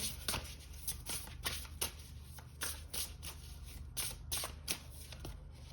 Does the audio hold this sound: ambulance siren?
no